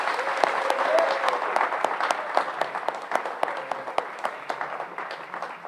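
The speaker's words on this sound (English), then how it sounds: "let's give him a big round of applause." An audience applauds an award recipient at a high school senior awards night, a steady wash of many hands clapping with distinct sharp claps standing out, sustained throughout and thinning slightly toward the end, with a faint voice briefly audible.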